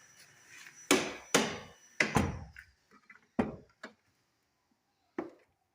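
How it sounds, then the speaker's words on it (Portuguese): A Fiat Uno car door being shut after a rattling part was removed, heard as several sharp, close thumps and knocks spaced over a few seconds, with a final fainter knock after a pause. "vou fechar a porta, porque daí ele vai recolher essa peça aqui"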